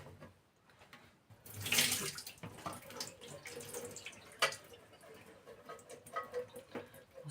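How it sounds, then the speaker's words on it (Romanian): Water from canned lentils being drained into a sink, an irregular close splashing and trickling that swells and fades with small drips and gurgles, alone without speech. "Așa, eu o să scurg de apă."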